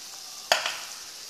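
Green jackfruit stirs into a pan with pork and soy sauce, a faint steady sizzle broken by one sharp scrape of the spoon and a softer second scrape, close and without talk.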